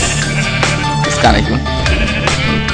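Minecraft sheep bleat once amid dense game sound and music while someone talks over it in German.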